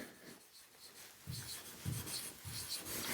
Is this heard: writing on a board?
yes